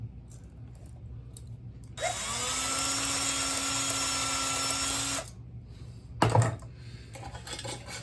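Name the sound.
reaming out a hole in a Marx toy boxcar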